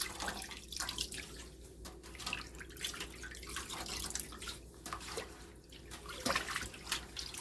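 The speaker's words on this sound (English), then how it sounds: "And rerun some more water." Tap water runs into a sink to rinse chitterlings, a steady close splashing stream with small drips and gurgles throughout and no talking.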